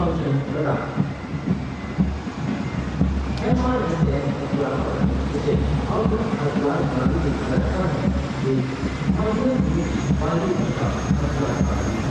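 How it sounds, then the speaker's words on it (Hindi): Apache helicopters pass at a Republic Day parade, a loud, steady rotor and engine roar that goes on under a commentator's voice. "The Apaches are from 125 helicopter squadron."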